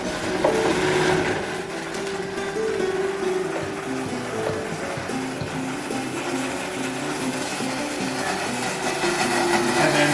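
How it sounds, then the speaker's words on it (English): A countertop blender whirs continuously while blending a keto salad dressing of olive oil emulsified with other ingredients, a steady motor drone with a faint changing pitch as the mixture thickens. "So let's turn the blender on"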